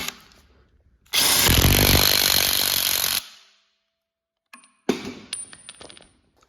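An old crank bolt is run into the balancer of a 5.3 LS engine with a power tool, producing a loud two-second burst of continuous whirring and rattling, followed by short clanks and knocks.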